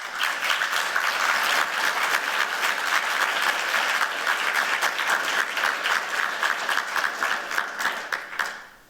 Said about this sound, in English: join me in a round of applause for them